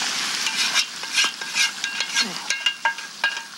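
Tomatoes cook over meat in a pan, giving a close, steady sizzle broken by repeated scraping stirs and light utensil clicks against the cookware, with no talking.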